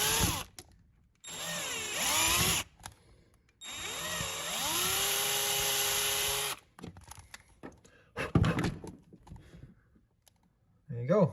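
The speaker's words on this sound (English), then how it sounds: "I'm gonna go ahead and get the main hole drilled now." A power drill bores the main hole for a custom Baby Yoda bass knob in two long whining runs, its pitch sagging and rising under load, followed by short bursts and clatter.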